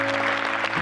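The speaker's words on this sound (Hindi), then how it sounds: "ये सब जो ताली बजा रहे हैं" Audience applause at a talk, a brief, steady wash of clapping hands at moderate volume over a faint background hum.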